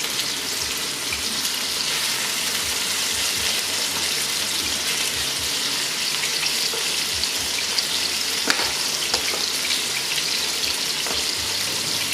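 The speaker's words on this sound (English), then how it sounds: "I'm going to just brown our meat" Lamb pieces browning in a frying pan give off a steady, loud sizzle and crackle that runs unbroken throughout, with occasional spits and pops.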